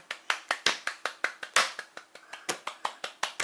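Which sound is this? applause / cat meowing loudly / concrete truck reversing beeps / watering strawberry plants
applause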